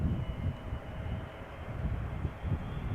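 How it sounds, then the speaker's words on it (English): SAS Airbus A320neo arriving from Copenhagen at Schiphol Airport, a steady low engine roar heard from a distance, continuous and even without clear peaks, with no talking. "SAS flight 2551 arriving from Copenhagen, A320neo."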